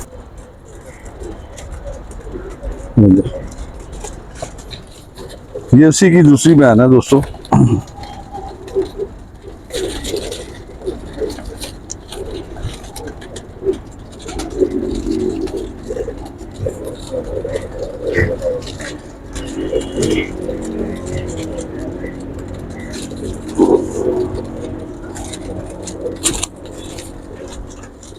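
Pigeons coo close by on a rooftop loft, soft repeated calls among flutters and scrapes, with someone talking over them and faint traffic in the distance.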